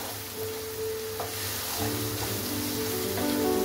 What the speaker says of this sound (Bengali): এই মশলাটাকে আবার ভালো করে আমি কষিয়ে নেবো।